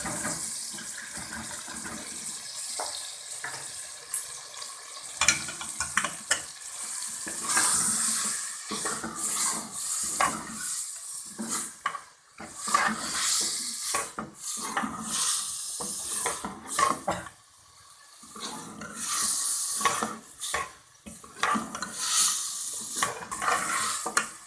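Boiled dal being stir-fried in masala in a pan, with steady scraping and stirring of a spoon against the pan and a soft sizzle throughout, heard up close with no talking.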